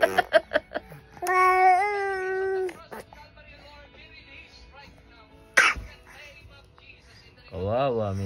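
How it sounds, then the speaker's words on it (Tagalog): A one-year-old baby coughs in a quick run of short bursts near the start, followed by a sustained babbling vocalization and scattered soft sounds, with another vocal burst near the end. "Kawawa, may ubo."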